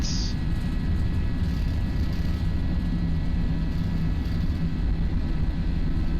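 An Airbus A320 (FSLabs, Jetstar livery) takes off from Gold Coast in the Prepar3D v5.3 flight simulator, with a steady, loud, low engine roar throughout and no voices.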